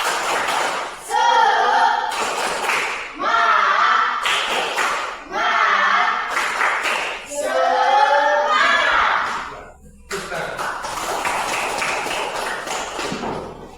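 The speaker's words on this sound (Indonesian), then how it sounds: "Tepuk semangat." A class of pupils does a rhythmic spirit clap (tepuk semangat) in a classroom: loud patterned bursts of group clapping and shouting voices, separated by brief pauses and repeated several times.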